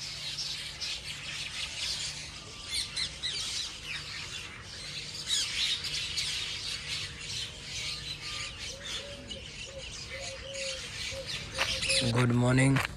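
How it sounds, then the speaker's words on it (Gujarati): Birds chirp and squawk continuously outdoors at a farmhouse near Kadi, Mahesana, a busy layered chorus of calls at moderate distance, with a sharper burst of calls near the end. "અહીંયા પક્ષીનો કલરવ બહુ બેસ્ટ હે, તમે થોડી વાર સાંભળો."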